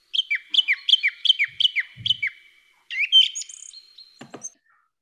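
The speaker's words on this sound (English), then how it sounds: "the bird was whistling this ti-ti-ti-ti" A bird whistles a quick series of six or so sharp, repeated descending notes, followed by a few brighter chirps and calls, close and clear with no talking.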